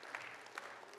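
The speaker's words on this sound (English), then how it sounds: "Clapping for the Lord." Church congregation clapping together during worship, a quiet, distant spread of hand claps from the crowd lasting about a second.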